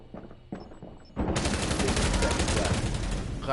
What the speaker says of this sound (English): Shoot him! Wallbang!